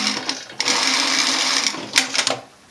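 A sewing machine stitches a pocket seam on a jacket: a close, loud whirring run of rapid stitching lasting over a second, then a few short bursts before it stops.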